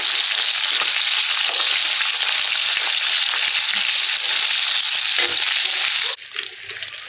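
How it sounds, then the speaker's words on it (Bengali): Fish frying crisp in a hot pan after being flipped makes a loud, dense, continuous sizzle that drops in level abruptly near the end. "কড়া করে মাছটা ভাজে নিতে হবে।"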